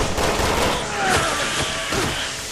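A sustained barrage of gunfire fills a Resident Evil 6 fight, with dense loud shots and some heavier thuds mixed in, close and continuous.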